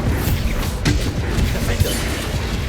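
Bombarda spell explosion in the Hogwarts Legacy video game, a loud booming blast with thudding impacts layered over constant dense battle noise, a voice speaking over it.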